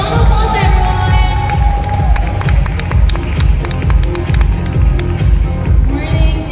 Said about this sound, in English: Please give her a round of applause, everyone